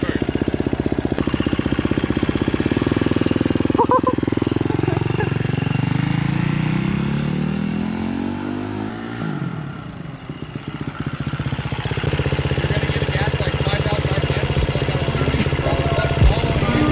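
A 2021 KTM 350 SX-F dirt bike engine fitted with a Rekluse auto clutch runs in first gear, a loud close buzzing drone that dips in pitch midway and then steadies again.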